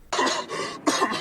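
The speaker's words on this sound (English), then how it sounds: "I'm getting over this fucking cough," A person coughs twice in quick succession, each a harsh, close, loud burst separated by a brief pause, with no talking.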